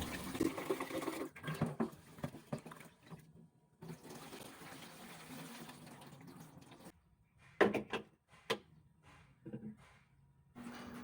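Rice being washed in water by hand for ginataang mais, with bursts of swishing and sloshing broken by short pauses, then sharper splashes and drips, close and fairly quiet.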